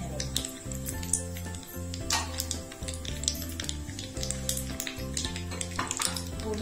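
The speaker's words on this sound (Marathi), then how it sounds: "लगेच राई तडतडली ना अशी की लगेच आपण याच्यामध्ये कढीपत्ता टाकायचा" Mustard seeds and curry leaves crackle and pop in hot oil while a tempering is made for a carrot salad. The dense, steady sizzle plays under low background music.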